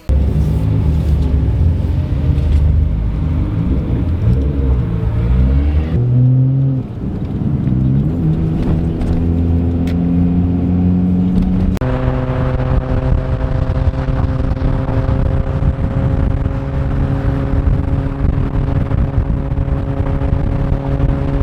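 A Nissan R34 GT-R drives Tokyo's C1 highway loop, its engine droning loudly and steadily, then revving up through the gears with rising and falling tones and clear shifts.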